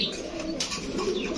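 Soft, low pigeon cooing from fancy racer Giribaz pigeons with deep red eyes and short beaks at a pigeon shop, a steady murmur over faint background hiss, no talk.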